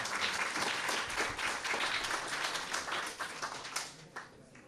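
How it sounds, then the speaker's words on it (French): A community group's 35th anniversary gathering breaks into hearty applause for its partners, a thick wash of clapping that holds strong and then gradually thins and tapers near the end. "Alors, une bonne main d'applaudissements"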